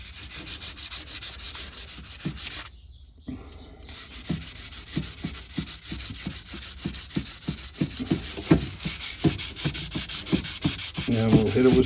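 Sandpaper rubs back and forth over primer on the grille of a 2004 Jeep Grand Cherokee, a steady close scratching in quick repeated strokes that pauses briefly, then resumes and grows louder toward the end.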